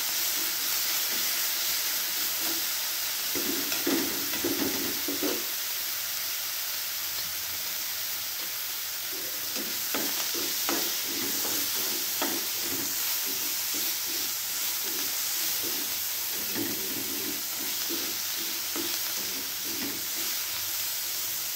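Garlic, coriander and crushed chili thecha fry in a pan with a steady broadband sizzle and hiss. Faint bursts of crackle and spoon scraping come through intermittently, with no talk.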